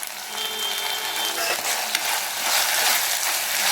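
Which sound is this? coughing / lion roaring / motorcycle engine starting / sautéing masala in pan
sautéing masala in pan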